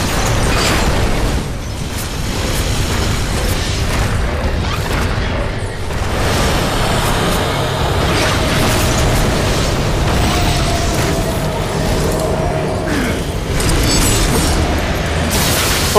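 Dense, loud explosions and booming blasts rumble through Darksiders combat, blending with grinding mechanical clatter into an unbroken, roaring wall of game noise with no clear pauses.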